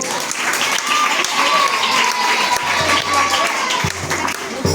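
Sustained clapping from a crowd at a memorial gathering for a pastor at a children's home, dense and loud throughout, with a faint voice and a few sharp knocks near the end.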